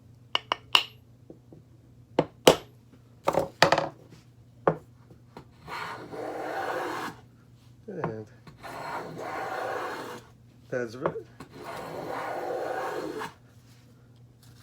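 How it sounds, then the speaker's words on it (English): A smoothing plane rasps along wood in several smooth strokes, mixed with sharp taps and knocks from a plane hammer, and a brief spoken word. "This is what you're looking for out of your smooth plane."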